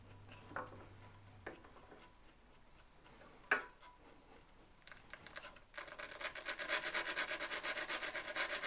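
A Laguna 1632 SuperMax drum sander's drum is being calibrated. Faint taps and rubs are followed by a rising, steady scratching hiss as the drum begins grazing the wood, growing louder toward the end.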